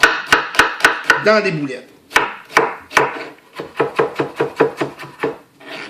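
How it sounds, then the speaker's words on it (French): A knife chops an onion on a board in rapid, regular strokes, one burst of sharp knocks, a pause, then another quick run. A voice speaks briefly in the middle. "on va hacher l'oignon"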